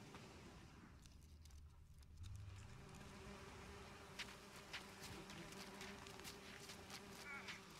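Bees buzzing in The Witcher 3 video game, a faint continuous drone around a nest with scattered clicks and footstep-like taps, quiet throughout with no talk.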